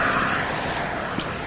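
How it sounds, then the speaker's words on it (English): Steady road traffic noise heard while out on a wet run, a broad continuous roar of passing cars, loud and close, with no talking. "Apologies for the road noise"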